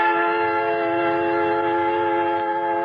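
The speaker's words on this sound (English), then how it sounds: "At the West Station, I board a creaking train and wait until finally it lumbers out through the yards" A creaking train sounds a long, steady, multi-tone whistle as it leaves a station in a radio drama effect, a loud sustained blast that stays level for its full length.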